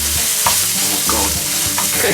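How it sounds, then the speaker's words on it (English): Wood pigeon with garlic and olives sizzles in a hot pan while a utensil stirs it, giving four distinct scraping strokes over a constant bright frying hiss. "There's that sort of frying poultry aroma going on"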